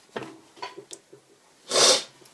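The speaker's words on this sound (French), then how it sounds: "Désolé hein, renifle." A person nearby sniffles and snorts in short quiet breaths, then gives one louder, longer sniff through the nose near the end.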